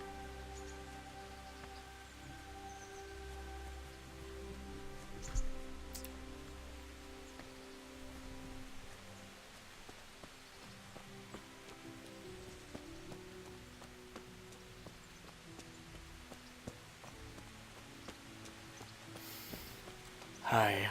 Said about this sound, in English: Oh, and the rain's picking back up again.